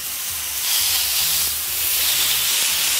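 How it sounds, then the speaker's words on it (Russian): Chicken thighs frying on a greased grill, giving a steady, loud sizzling hiss that swells slightly and continues alone without talk. "И выложим жариться бедра."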